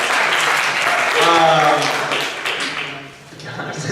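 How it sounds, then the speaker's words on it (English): A convention panel audience at Fiesta Equestria 2015 applauds, a burst of clapping that swells and then fades, with voices talking and cheering over it. "Applaud yourself."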